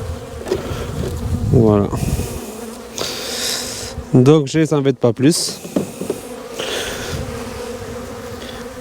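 Honey bees buzz around an open beehive during December hive care, a steady insect drone close by with someone speaking French over part of it.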